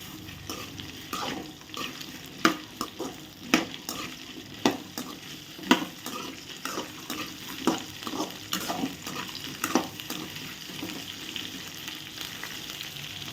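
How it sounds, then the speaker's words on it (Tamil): Sliced okra sautés in hot oil in a pan, with a steady sizzle and a run of sharp, irregular scrapes and clinks from stirring, close and clear with no talking. "இந்த ஆயிலே நல்லா இந்த வெண்டைக்காயை வந்து வதக்கி எடுத்துருவோம்"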